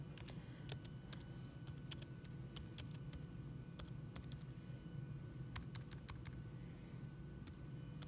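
Steady stream of keystrokes on a computer keyboard, sharp clicks in quick irregular bursts with short pauses, fairly faint over a constant low room hum.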